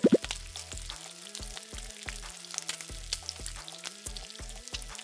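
Lamb chops sizzle in a pan with garam masala and onions, a close steady hiss broken by repeated clacks and scrapes of a utensil, with a sharp knock at the start and no voices.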